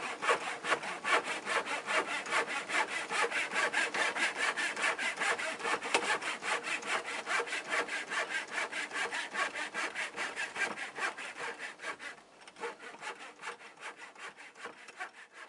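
Hand saw cutting wooden table legs to size for a garden baseboard build, steady rapid back-and-forth strokes, close and loud, continuing alone with a short pause near the end before resuming.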